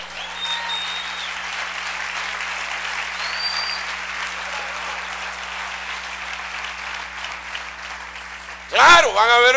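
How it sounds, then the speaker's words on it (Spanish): A church congregation applauds during a sermon, a steady, dense wash of clapping that fills the room for most of the stretch, then a voice cuts in loudly near the end. "Dale un aplauso al Rey."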